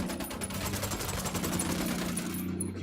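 A squad fires rapid automatic gunfire in Tom Clancy's Ghost Recon Wildlands. The rattling bursts are dense and continuous, with no pause for the whole stretch.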